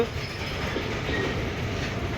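A train runs along a newly opened railway line near Sambalpur, giving a steady, close rolling rumble of wagons and wheels with faint rail clatter and no voices.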